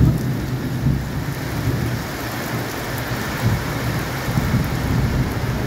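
Dense, constant roar of heavy rain with a low rumble underneath, steady throughout and fairly loud.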